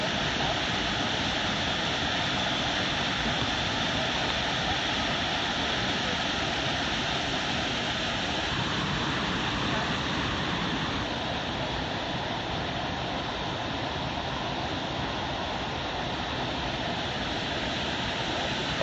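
A waterfall roars steadily, a dense broadband rush of falling water that stays loud and constant from start to finish with no voices.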